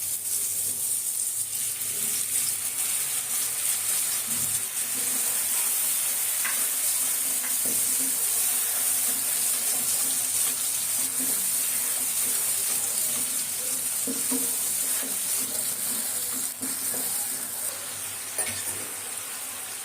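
Mustard paste frying with tomatoes and green chillies in a pan for a tilapia curry, a steady hissing sizzle with occasional stirring scrapes, close and continuous.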